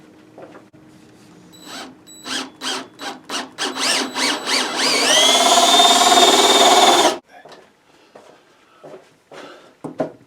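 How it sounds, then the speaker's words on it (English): Hole saw drilling into wood during a makeover job: a series of short revving bursts builds into a sustained loud whining cut for about two seconds, then stops abruptly, followed by faint handling noises. "find the other center to get me a dead center for the hole saw, and then we're going to be making a hole."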